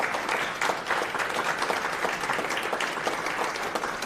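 Steady applause from an audience after a budget announcement of a 6% county and school employee pay raise, a continuous wash of many hands clapping at moderate level with no voices over it.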